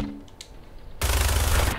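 Automatic gunfire in the Fallout 4 video game during a Deathclaw fight: after a quiet opening, a loud, dense rapid-fire burst starts abruptly and rattles on for nearly a second.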